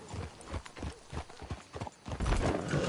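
Horses trotting in a video game, with a steady clip-clop of hooves and a faint whinny, heard quietly at a middle distance.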